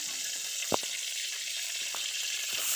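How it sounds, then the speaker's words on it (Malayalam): Ivy gourd frying in oil with salt and green chillies gives a steady, fairly faint broadband sizzle, with a few sharp clicks and taps from the pan standing out over it. "നമുക്ക് കോവയ്ക്ക ഫ്രൈ എടുക്കണം നമ്മൾ എണ്ണ ഒഴിച്ചിട്ടുണ്ട്"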